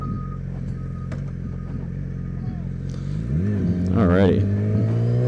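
A new Yamaha R6 sport motorcycle engine drones while riding, then climbs in a strong rising rev near the end, heard close over wind noise, with a rider speaking briefly.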